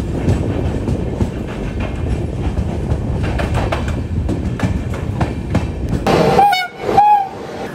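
Passenger train 12193, the Yesvantpur–Jabalpur service, rumbles and clatters at a station, then sounds its horn in two loud, close blasts near the end.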